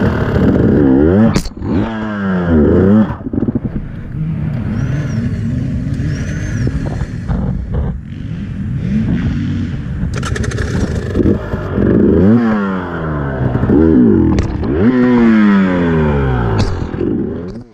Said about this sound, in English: I got my bike completely vertical, revving it, and just trying to get some traction on that back wheel